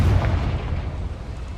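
A Confringo explosion spell in Hogwarts Legacy, a deep booming blast that rumbles loudly at first and then rolls away into a low fading roar.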